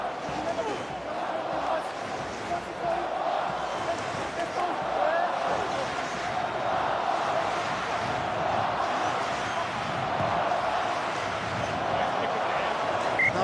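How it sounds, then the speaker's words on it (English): Rugby stadium crowd at Samoa versus Ireland, roaring and screaming to urge Samoa on, a dense continuous wall of cheering and shouts that holds steady throughout. "the crowd urge them on"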